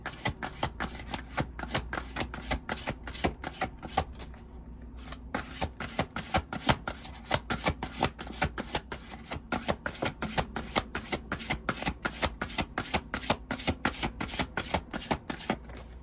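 Tarot cards being shuffled by hand, a long run of rapid, evenly spaced riffling flicks close to the listener, pausing briefly once before carrying on at the same brisk pace.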